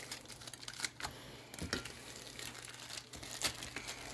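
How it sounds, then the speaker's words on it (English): Plastic bacon packages being cut open with a knife or scissors for carnivore egg bites, giving quiet crinkling and tearing plastic with a few sharp snips, close and faint, with no talking. "We're going to cut open the bacon packages."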